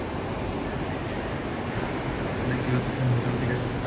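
Sea waves at Cox's Bazar beach wash in as a steady broadband roar, close and continuous, swelling slightly near the end with wind noise on the microphone.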